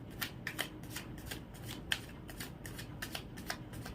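Tarot cards being shuffled by hand, a quick series of crisp riffling flutters repeating about every half second, close and clear over faint background noise.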